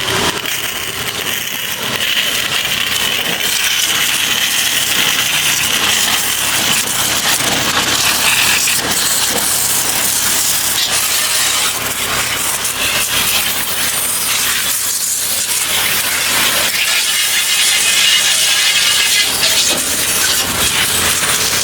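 A pressure washer hose sprays water with a loud, steady, broadband hiss that runs unbroken for the whole stretch, with no voices over it.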